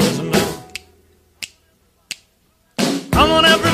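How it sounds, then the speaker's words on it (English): Three crisp finger snaps ring out one by one at an even pace in a quiet pause. A singing voice can be heard before and after them in a Las Vegas stage show. "snap your fingers"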